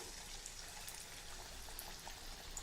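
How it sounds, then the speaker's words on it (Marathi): Pumpkin vadas deep-frying in hot oil, a faint, even bubbling sizzle that holds steady with no voices. "उरलेले सर्व वडे मी याच प्रकारे तळून घेते आहे"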